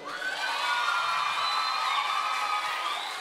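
A school recital audience cheers and whoops loudly, a dense sustained crowd roar with children's high shouts and light applause, holding steady throughout.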